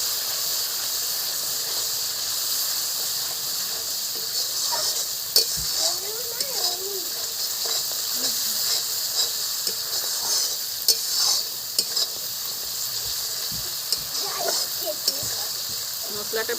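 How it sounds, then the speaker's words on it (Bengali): Turmeric powder and spices stirred and fried in oil in a pan, a steady broad sizzle and hiss with occasional scraping stirs, continuous throughout. "এবার আমি 1 চামচ হলুদের গুঁড়ো দিয়ে দিচ্ছি, দিয়ে আবার একটু কষে নেব।"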